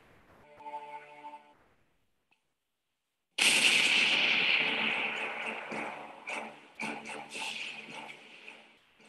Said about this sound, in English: Big Bertha, the world's largest cannon.